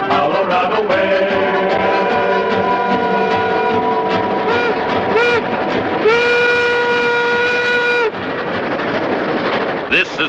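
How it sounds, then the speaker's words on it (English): A steam train on the Tomahawk and Western Railroad in the Colorado Rockies rumbles loudly and close, its whistle sounding in several long blasts over the steady roll of the cars. "here's the first train to go out over the high iron"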